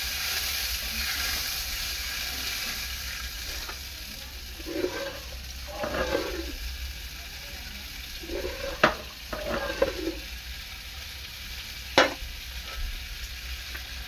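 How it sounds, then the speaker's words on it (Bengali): Fried spices for a fish curry hissing and sizzling in a pan after water is added, with a steady frying wash and a few sharp stirring clinks and scrapes over it. "তাহলে জলটা দিয়ে দিই, মশলা কষানো হয়ে গেছে।"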